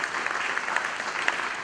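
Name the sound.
audience applause for an award recipient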